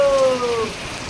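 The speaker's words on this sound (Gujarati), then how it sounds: "મસ્ત વરસાદ આવે છે ગાય એટલો ઠંડો પવન ને ઠંડો વરસાદ આવો" Heavy rain falls steadily with cold wind during a storm, a loud, dense, continuous wash of sound close by, with a faint tonal whine running through part of it.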